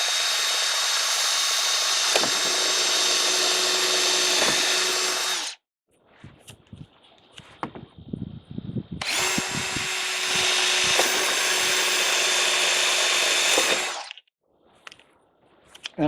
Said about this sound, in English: I'm going to drill a bunch of holes through this, and of course I'm using the 1/4 inch bit.